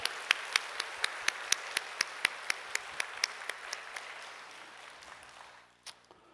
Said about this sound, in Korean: 다시 한번 큰 격려의 박수 하겠습니다